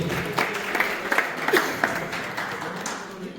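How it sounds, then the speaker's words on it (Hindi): Applause from the audience at a Lions Club Samalkha Highway oath-taking ceremony, moderate and steady with a few louder claps, while a voice or two carries faintly over it. "एक बार जोरदार तालियां इनके लिए"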